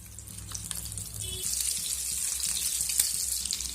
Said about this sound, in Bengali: ফ্রাই প্যানের মধ্যে তেল দিয়ে দিয়েছি আর তেলটাও গরম হয়ে গেছে এবার স্ন্যাক্সগুলো দিয়ে দেব